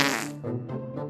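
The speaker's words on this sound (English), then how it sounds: "good children do have farts" A sputtering fart sound effect, loud and close, breaking into a few short bursts.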